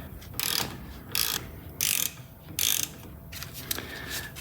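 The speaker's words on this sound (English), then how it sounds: "Let me grab that wrench." A torque wrench ratchets in four or five short, sharp bursts of clicking as it tightens the brake caliper bolts on a 2019 Honda Odyssey, close up, with brief gaps between pulls.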